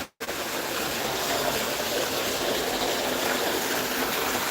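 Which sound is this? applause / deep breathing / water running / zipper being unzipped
water running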